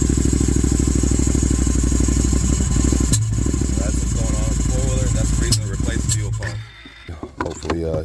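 A Can-Am Outlander ATV engine runs steadily with a low rumbling idle, loud and close, then sputters and drops off near the end, after a fuel pump replacement for an idling problem.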